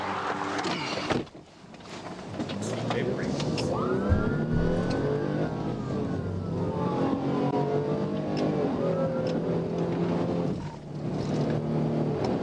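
A car speeds away from a police stop, its engine revving hard and rising in pitch as it accelerates, loud and close at first, then roaring on steadily.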